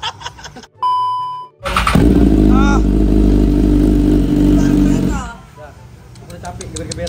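A BMW S1000RR motorcycle engine revs hard and loud for several seconds, then drops back to a rough idle, with brief snatches of speech around it.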